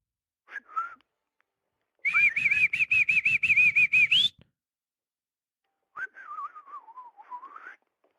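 A person whistles in imitation of a mockingbird: a short warbling phrase, then a rapid run of repeated trilled notes rising at the end, and after a pause a wavering descending whistle, close and clear against silence.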